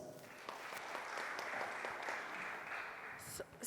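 Audience applause at a university career fair panel, a steady broadband wash of clapping from a crowd lasting several seconds at moderate level, with a brief voice near the end.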